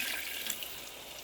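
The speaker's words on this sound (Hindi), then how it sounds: "आधा कप पानी ऐड कर रही हूँ।" Half a cup of water poured into a cooking pot of spiced tomato and ginger for mutton liver gives a brief, steady splashing pour, close and moderately loud, with no voice over it.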